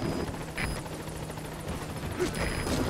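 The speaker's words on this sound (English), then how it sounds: "Support helicopter has arrived." Steady helicopter rotor thrum with rhythmic blade chop throughout from the Metal Gear Solid V support helicopter arriving at a landing zone, joined by faint electronic beeps and tones, continuous and fairly close.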